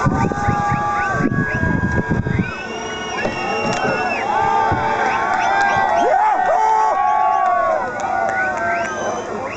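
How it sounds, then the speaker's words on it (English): Large outdoor crowd cheering and whooping as an eclipse darkens the sky, a loud sustained roar of many voices with shrill whistles and yells rising and falling across the scene. "Watch the sky go dark as the eclipse happens while the crowd cheers and celebrates this amazing moment together."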